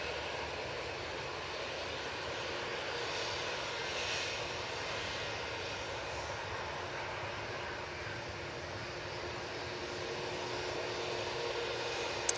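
Jet engines of an Airbus A321 rumble steadily as it turns onto runway 23 left, a constant, moderately distant roar with a faint hiss and no talk.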